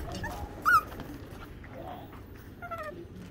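A Boston Terrier puppy whimpers in short high-pitched cries, one sharper yelp near the start and a wavering whine later, close and fairly soft against a quiet room.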